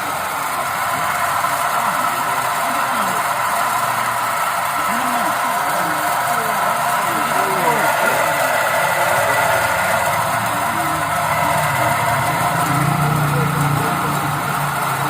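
A car engine idling roughly with the air conditioning switched on, the faulty AC compressor adding a continuous loud drone and whine over the running motor, steady throughout.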